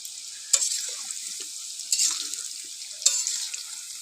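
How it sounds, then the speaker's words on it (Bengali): Small new potatoes fry in oil in a pan over a wood-fired clay stove, a steady soft sizzle broken three times by sharper scraping stirs, close and without talk. "আলুটা আমি বেশ ভালো করে লাল লাল করে ভেজে নেব।"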